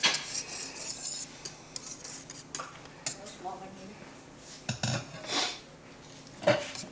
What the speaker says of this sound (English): Got a little ladle or something you want to get it out with?